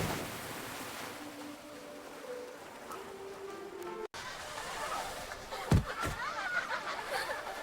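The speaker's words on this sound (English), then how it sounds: "The waves are pushing me" Cartoon river waves wash in a steady broadband rush as a child floats in summer water, with a brief cut midway and a few soft splashes near the end, faint tonal voice or music traces underneath.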